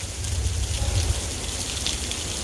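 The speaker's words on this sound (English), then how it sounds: "it's hailing" Hail falling outdoors during a thunderstorm, a steady dense patter of pellets on surfaces that holds at an even loudness throughout, with a low rumble underneath.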